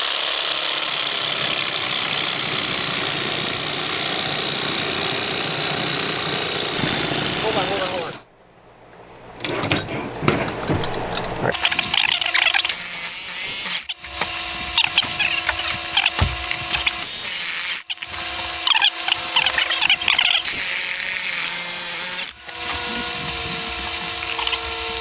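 Loud, continuous mechanical whirring and grinding of power tools, starting and stopping in bursts with brief gaps, with a voice talking at times underneath.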